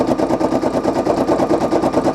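A Brother PE800 embroidery machine stitches out a patch, giving a steady, rapid mechanical whir with a regular pulsing rhythm, close and continuous throughout.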